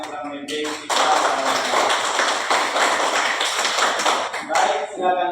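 A school class audience claps steadily for about four seconds, a dense, close burst of applause that follows brief talk and fades out as a voice resumes.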